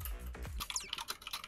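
Rapid clattering keystrokes on a computer keyboard during a game, with a brief bass thump at the start followed by quick, uneven bursts of typing, close and fairly quiet.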